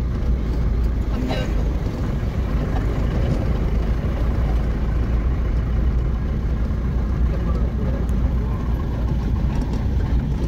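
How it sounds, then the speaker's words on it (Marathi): A car climbing the Varandha Ghat mountain road between Mahad and Bhor produces a continuous low engine rumble and road roar, loud and steady for the whole stretch, with faint voices in the cabin. "आता गाडी चालवा."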